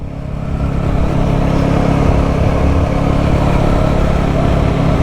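A BSA Bantam 350 single-cylinder motorcycle engine runs steadily at close range, a loud, throbbing low rumble with a rough, pulsing character that holds throughout.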